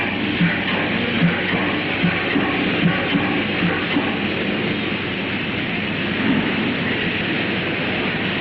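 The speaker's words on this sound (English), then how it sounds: "Tell me quickly, does this train stop at Nice?" A train pulls into a station in a 1952 film scene, a steady, loud rumble with faint rhythmic clacks running throughout and no voices.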